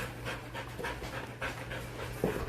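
Several dogs pant in quick, rhythmic bursts close by, a soft breathy sound repeating steadily over a low background hum, with no talking.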